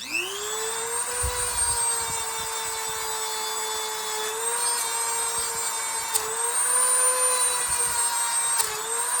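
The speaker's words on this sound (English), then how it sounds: "Get the Dremel up here a little bit, clean it up." A Dremel rotary tool whines at a high, steady pitch as it cleans a pocket knife, spinning up at the start and holding close and continuous, with brief scraping touches where the bit meets the metal.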